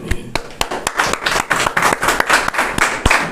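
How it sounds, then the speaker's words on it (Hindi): A church congregation claps together after a song at a Sunday evening service, a dense, steady run of hand claps that is close and loud, with a few sharper individual claps standing out. "क्यों ना हम और एक बार जोर से ताली बजाए"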